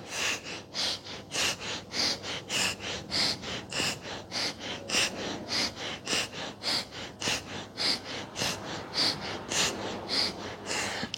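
Forceful rhythmic pranayama exhalations in a yoga breathing exercise, about two sharp nasal breaths per second in a steady series lasting the whole stretch, close and fairly loud with no talking.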